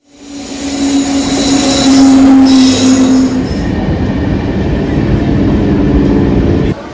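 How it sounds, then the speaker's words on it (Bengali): The Tamralipta Express pulls into Uluberia station, a loud close rumble of coaches with a sustained wheel squeal and screeching brakes that fade as the train slows. "এই তামলিপ্ত এক্সপ্রেস কিন্তু উলবিয়া স্টেশনে প্রবেশ করছে এখন"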